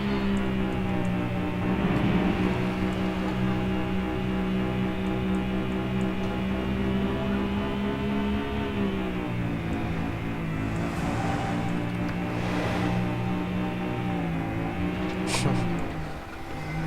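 A car driving along a road in SimCity, a steady engine drone with smoothly shifting pitch as it runs on, moderately loud and continuous without talk.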